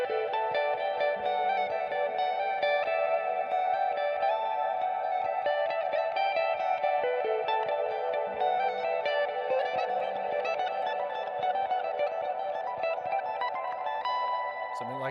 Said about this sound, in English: but it's bathed in reverb